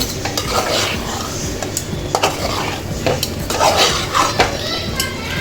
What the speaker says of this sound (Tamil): இப்போ நல்லா நம்ம கிண்டி விட்டுருவோம் கருவாடெல்லாம் சேர்த்து.